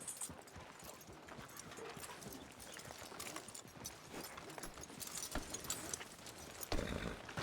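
Faint horse hooves clip-clop at a slow walking pace in Red Dead Redemption 2, soft and irregular, with a louder thump near the end.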